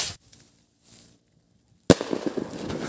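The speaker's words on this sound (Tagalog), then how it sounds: "Napakalakas ng lifter ni Boss Lig TV mga boss." A Librilla Black lifter firecracker goes off with a single loud, sharp bang after a quiet lull, followed by a rough crackling, rumbling tail outdoors.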